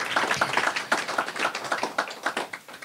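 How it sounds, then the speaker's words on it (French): Audience clapping after a presentation, a steady patter of many hands at moderate distance, fairly dense and even throughout with no talk over it. "On peut les applaudir encore."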